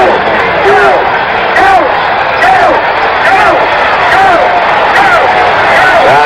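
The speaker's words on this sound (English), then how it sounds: "Crowd yelling, go, go in the background." A 1974 World Series Game 3 crowd at a Dodgers versus A's baseball game yells and chants continuously, a loud dense roar that persists under someone talking.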